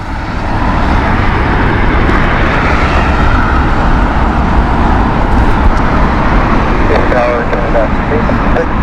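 A four-year-old Air Canada airliner at Heathrow Airport, its jet engines giving a loud, steady broadband roar that holds throughout, with a voice talking over it.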